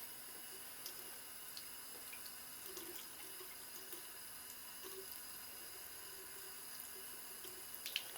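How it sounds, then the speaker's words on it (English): A feather drawn gently through a basin of water gives a soft, continuous close-up trickle and slosh, quiet and steady with faint splashy ticks, and no voices. "Gently run your feather through the water."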